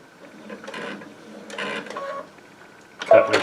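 A Baby Lock Altair sewing machine backstitches a few stitches on quilt binding, giving short separate bursts of whirring, three brief runs with quiet gaps between, the last louder and more abrupt.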